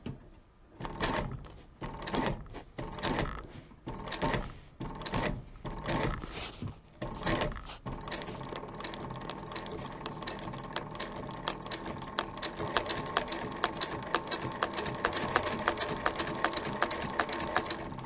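A sewing machine stitches a zipper onto a leather zip-around wallet, first in short stop-start bursts with handling knocks, then in a steadier, continuous run of close, moderately loud stitching.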